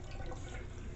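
A Tabu portable washing machine draining its water, a brief steady gurgling rush of liquid, moderately quiet and alone.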